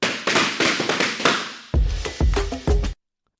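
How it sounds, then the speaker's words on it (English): A rapid string of sharp balloon pops from many women bursting balloons at once, crackling in a dense, overlapping burst, then three separate heavier pops before silence. "So what you hear there is all of the women bursting their balloons."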